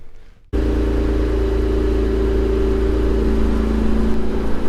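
A car fitted with a new Ark GRiP exhaust starts up after a brief quiet moment, then settles into a loud, steady idle with a deep, even drone that carries on to the end.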